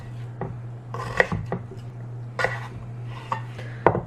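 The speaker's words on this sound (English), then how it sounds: "So we're just gonna cut these into fry shapes" A knife chops vegetables into fry shapes on a cutting board, with irregular sharp thuds spaced by short pauses and a steady low hum underneath.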